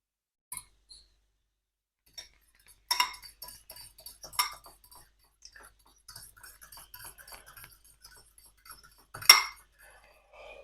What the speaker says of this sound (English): mix them with the fork you have next to your bowl